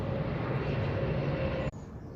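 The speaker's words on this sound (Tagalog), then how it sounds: "kaya pag may dumadaan dito yung aeroplano, napakababa. Sobrang baba na aeroplano." A low-flying airplane passing close by near an airport, a loud, steady engine roar that drops off sharply near the end.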